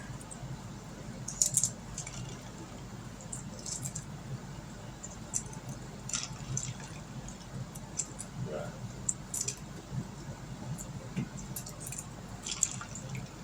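Hard-boiled eggs being peeled in a bowl of ice water, with soft wet squishes, drips and small splashes repeating close by throughout, over a steady low background hum.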